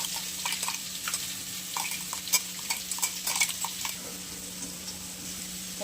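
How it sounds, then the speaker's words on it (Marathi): Crushed green chilli paste stirring in a pan, with soft scraping and light sizzling and clinks of a spoon against the metal, fairly quiet and close, with no talk. "आपण हे नाही वाटून घेतलेला मिरचीचा ठेचा टाकून घेणार आहे."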